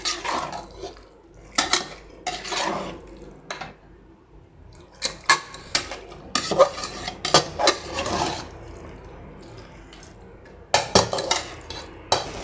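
Washed chicken being mixed in a metal pot for biryani, with loud clanking and scraping of a spoon against the pot in bursts separated by short pauses, close up and without talk.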